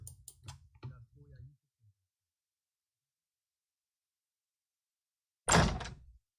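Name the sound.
door opening sound effect in visual novel Slow Damage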